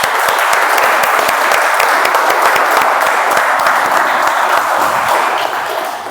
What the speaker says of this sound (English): can we have a huge round of applause for all the guests?